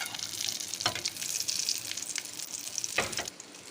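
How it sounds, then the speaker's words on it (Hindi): Shami kebabs sizzle steadily in hot oil in a pan, a close, bright crackle broken by a couple of louder spatters as more patties go in. "और शामियाँ इसमें डाल देंगे, वो भी साथ साथ फ्राई हो जाएंगी"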